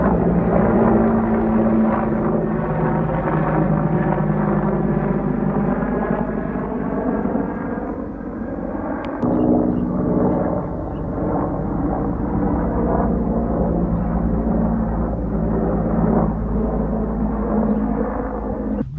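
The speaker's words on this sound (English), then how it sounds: "So there's helicopters flying overhead all the time." A military helicopter passes over a farmyard under a flight path between army bases, giving a loud, sustained rotor rumble that dips briefly midway and then swells again.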